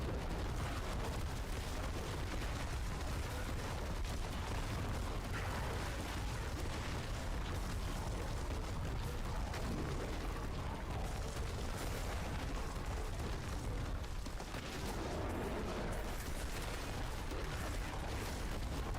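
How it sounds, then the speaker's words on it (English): Enemy fire explosions burst in the Diablo 4 video game, a dense continuous wall of booming, crackling blasts and effects that stays loud throughout, with no talking. "they also have fire explosions, no wonder."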